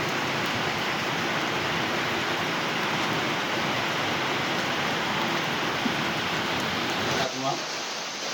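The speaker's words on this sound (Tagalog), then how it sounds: "sobrang lakas ng ulan" Heavy rain pours down in a dense, unbroken roar of broadband hiss that stays loud and even throughout, easing slightly only in the final second.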